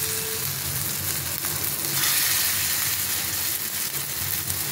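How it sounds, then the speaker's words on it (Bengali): Small spoonfuls of cabbage pakora batter fry in hot oil, a continuous close sizzle and crackle with bubbling bursts, steady and fairly loud throughout with no talking. "এখন আমি এটা ছোট ছোট পকোড়ার সাইজ মতন গরম তেলে দিয়ে দিলাম।"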